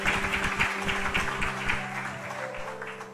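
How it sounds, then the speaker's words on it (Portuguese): A church congregation applauds the Lord during a service, a rhythmic burst of clapping over a sustained organ or keyboard chord, fading slightly toward the end. "Aplaudam ao Senhor, aleluia."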